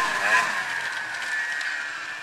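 A Ski-Doo 440X snowmobile racing nearby, its two-stroke engine holding a steady high-pitched whine that swells slightly and then eases, with no pauses in the drone.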